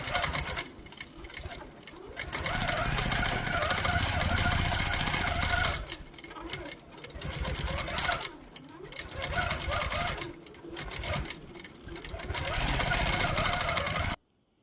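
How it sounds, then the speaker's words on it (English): A computerized quilting machine stitches out a point-to-point design in rapid mechanical bursts of needle chatter, several stop-start runs separated by brief pauses, close and clear with no talk. "So it has stitched out"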